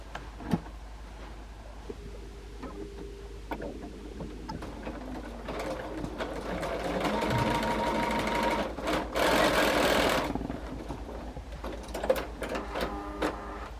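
A sewing machine stitches quilt patches into a row with a 1/4-inch seam, a close mechanical whir that starts in short bursts, builds to a sustained run and eases off, with a few light clicks and taps.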